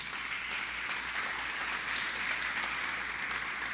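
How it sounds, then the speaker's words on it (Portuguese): An audience at a Brazilian church gathering gives steady, sustained applause, a dense wash of many hands clapping at an even level throughout. "Só isso aí já dá para você dar um aplauso aí bonito."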